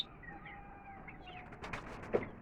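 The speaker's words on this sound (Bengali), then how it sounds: "আর এখানে আছে কবুতর, দুটা কবুতর আছে।" Two pigeons in a farm enclosure with chickens and turkeys give soft, faint coos against quiet background noise, followed by a few brief louder flutters near the end.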